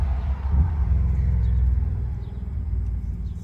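Road traffic passing close by an outdoor RV repair spot, a steady low rumble of car engines that swells and eases over a few seconds with no talking.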